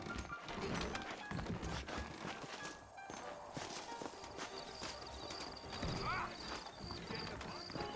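Horses' hooves clip-clopping with a whinny in the Western video game Red Dead Redemption: irregular hoofbeats and shuffling under a busy background, with a short neigh near the end and someone talking over it.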